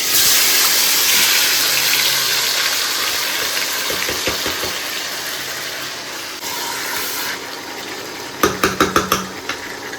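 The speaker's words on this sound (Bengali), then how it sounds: "এখন আমি মাছটাকে দিয়ে দেবো" Pomfret fish tipped into a hot pan of oil with black cumin seeds and a whole bay leaf, giving a loud, steady broadband sizzle that slowly eases, followed by a quick burst of clattering near the end.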